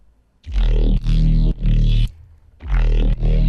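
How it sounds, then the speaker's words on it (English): Heavily processed glitch-hop synth bass from Serum stabs in four loud, growling bursts with vowel-like formant shifts and short gaps between them, with no one speaking. "I'm gonna start with this bass here."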